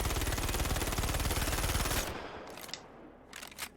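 A Gemini C54 submachine gun firing in the video game Star Citizen, a rapid continuous burst for about two seconds that cuts off, followed by a few faint clicks and handling noises.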